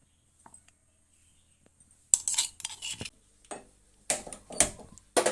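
Salt and spices being pounded into a coarse paste, silent at first then sharp close knocks and gritty crunching in two short bursts, with a few light taps in between.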